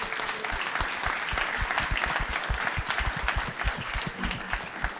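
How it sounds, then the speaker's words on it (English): An audience at a climate panel discussion in San Francisco gives sustained, steady applause, a dense patter of many hands clapping continuously. "a round of applause for our wonderful panel."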